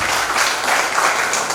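A congregation at an Easter service at a Telugu Baptist church in Addanki claps in a brief, dense burst of applause, moderately loud and steady throughout.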